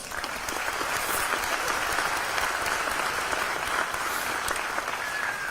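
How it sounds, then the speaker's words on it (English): A crowd claps steadily at a Hard Rock Hotel & Casino Bristol event before its grand opening, an even, sustained round of applause heard from a moderate distance without any voices. "Thank you, and give them a nice round of applause."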